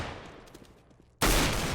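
Gunfire in a competitive video game match, heard as a sudden loud burst of shots that cuts in sharply after a stretch of quieter game noise and continues to the end.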